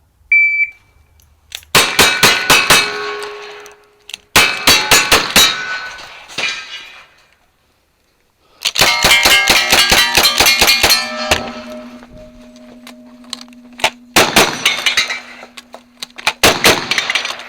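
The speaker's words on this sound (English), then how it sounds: "rifle from the bar, and shotgun from the right window" Rapid rifle shots, then shotgun blasts, ring off steel targets at a timed action-shooting stage. Several dense bursts of sharp cracks and bright metallic clangs are separated by short pauses, loud and close.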